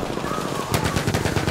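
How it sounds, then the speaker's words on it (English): Battlefield 1 machine guns chatter in loud, close rapid bursts on the Monte Grappa battlefield, sustained automatic fire filling the moment without any voices. "Machine guns!"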